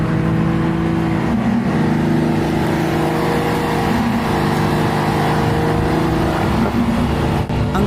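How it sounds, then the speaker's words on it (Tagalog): A Ferrari engine sounds loud and close with a deep, sustained roar as it accelerates. The drone holds steady through the whole stretch, with rising and falling revs. "Gusto kong marinig mag-accelerate ang Ferrari na ito."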